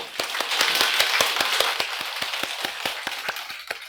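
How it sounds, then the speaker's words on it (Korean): An audience claps together in a steady unison rhythm at a Friday lecture gathering. The crisp, evenly spaced claps are fairly close and fill the room on their own. "박수 한번 다 같이 쳐보죠"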